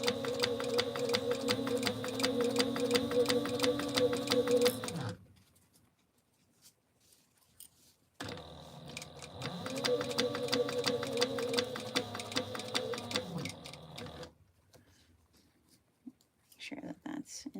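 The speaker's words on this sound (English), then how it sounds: "We're gonna back stitch here" Domestic sewing machine back stitching on a Mini Scout bag, running in two steady bursts of rapid stitching separated by a pause, close and fairly loud, with a brief faint voice near the end.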